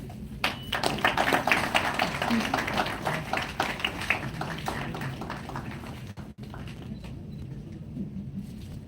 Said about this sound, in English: This definitely calls for an applause.